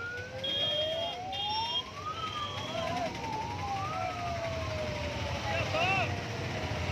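Wailing sirens rise and fall, several overlapping at a distance, steady over background traffic noise with a few voices.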